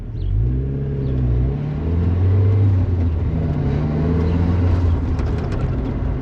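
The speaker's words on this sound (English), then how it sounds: "It's got a little bit of a burble tune. You can hear it kind of on deceleration." A turbocharged 1997 Mazda Miata rumbles with a deep, steady exhaust burble off throttle, the low droning note swelling and easing slightly over several seconds.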